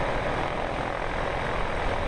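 A Piper Aerostar 600 taxiing in Microsoft Flight Simulator 2024 gives a steady, loud propeller-engine drone that hums evenly and unbroken throughout.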